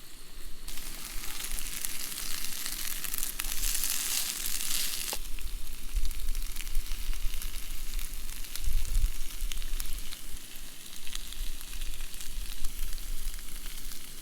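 Hash browns sizzle and crackle steadily in a hot pan, a dense, continuous frying hiss with a few low clanks of a spatula, close and fairly loud throughout with no talking.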